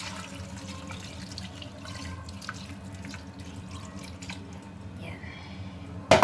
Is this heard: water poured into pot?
yes